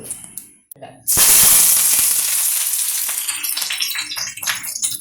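Curry leaves hit hot sesame oil for a kanthari chili pickle, bursting into a loud, close sizzle that then settles into a steady crackling hiss, with small pops toward the end.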